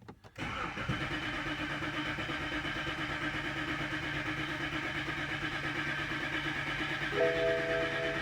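A 2011 BMW X3 with the N52 engine cranks but fails to start, giving a steady mechanical churning that runs unbroken for several seconds at close range, with a faint hiccup near the end.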